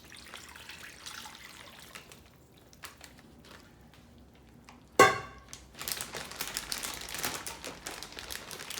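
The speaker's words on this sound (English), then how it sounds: "And then we're going to start pouring in our brine." Faint rustling gives way to a sudden splash, then a steady trickle of honey brine pouring into a plastic Ziploc bag with crinkly noises, close and moderately quiet.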